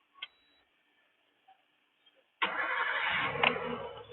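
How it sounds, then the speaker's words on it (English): A Suzuki Samurai engine cranks and catches, then runs loudly at a steady idle, after a faint click and near-silence at the start. "now I'll start the car,"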